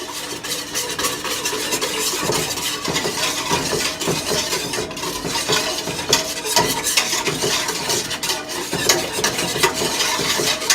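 A spoon stirs soft serve ice cream mix in a bowl for a home soft serve machine, with a steady, busy scraping and swishing that runs without pause and no voices.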